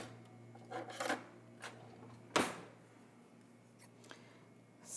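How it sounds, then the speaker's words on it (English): Scissors snipping open a bath capsule, a few quiet cuts and crinkles with one sharper snap midway, faint and close in a quiet room. "Okay, scissors it is."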